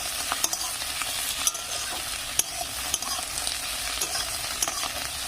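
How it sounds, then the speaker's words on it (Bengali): Beans with fried egg and coriander sizzle steadily in a pan while a utensil scrapes and stirs them, giving sharp intermittent clicks over a constant close frying hiss. "দুটো একসাথে দিয়ে এখানে আমি ভালো করে নেড়ে চেড়ে নেবো। নিয়ে আর মিনিট 2 মতন ভাজবো।"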